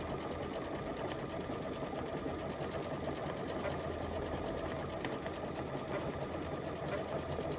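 A Luminaire or Solaris sewing machine quilting edge to edge runs with a continuous, even mechanical whir and rapid needle chatter, steady and close throughout with no voices.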